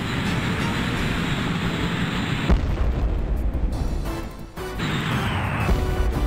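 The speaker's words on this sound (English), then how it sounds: "I think some fighters are shooting at me now" Heavy booming impacts and roaring blasts as fighter planes fire in the flight game Strike Commander, a loud rumbling barrage with sudden drops and swells.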